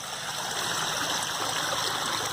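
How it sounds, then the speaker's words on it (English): A spring-fed koi pond's stream waterfall runs steadily, a constant close rushing and splashing of water with no break and no voices. "But stream waterfall is on now"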